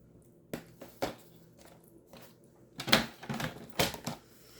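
A sheet of paper being trimmed by about two inches with a cutting tool, giving a series of sharp clacks and crisp snips, a few spaced apart then a quicker cluster, close and with no talking.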